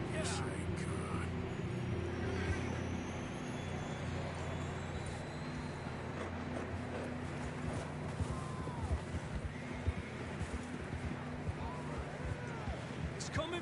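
Horses ridden in the Red Dead Redemption game, hooves clopping steadily over a low rumbling game backdrop, with an occasional faint whinny. People talk over the hoofbeats.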